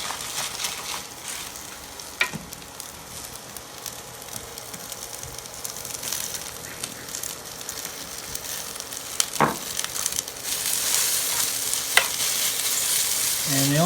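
Shredded turnip hash browns fry in a hot pan with salt and pepper, giving a steady broadband sizzle throughout, with a few sharp scraping clicks from stirring and the crackle growing louder toward the end; no talking.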